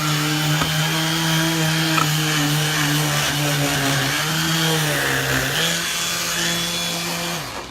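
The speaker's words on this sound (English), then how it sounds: "when you sand before it's really dry, this is what happens" An electric long-reach sander works on a wooden organizer, a loud close steady motor whine with a strong hum and slight pitch dips as pressure changes, fading at the end.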